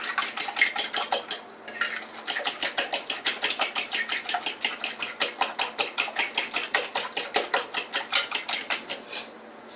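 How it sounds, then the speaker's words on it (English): Eggs and yolks are whisked vigorously in a bowl for a quinoa scramble, a fast, steady clinking rhythm of utensil against the dish, close and moderately loud with a brief pause near the start. "going to beat these together so that they're nice and blended and fluffy"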